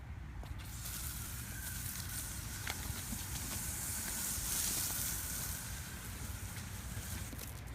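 Continuous hiss of water spraying at a steady level, close by, with a faint low rumble underneath.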